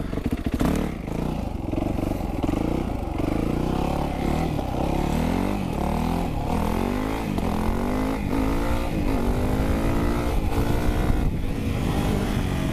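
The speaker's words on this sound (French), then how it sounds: "là vous avez vu en fait, j'ai fait un wheeling" A motorcycle doing a wheelie, heard as a loud, close engine roaring continuously with repeated rising and falling revs as the throttle is worked, with some rattling clatter and no talk.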